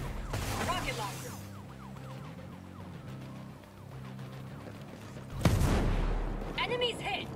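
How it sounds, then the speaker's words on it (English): Rocket launcher blast and gunfire in the video game Ghost Recon Breakpoint: rapid gunshots under a steady droning bed, then a loud sudden explosive burst near the end, followed by crackling debris. "Rocket launcher!"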